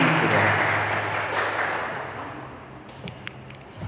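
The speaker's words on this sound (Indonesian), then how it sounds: "Boleh nggak kita tepuk tangan kepada Tuhan kita Yesus Kristus?" Applause from a church congregation, a dense broadband patter of clapping that swells early and gradually fades over a few seconds.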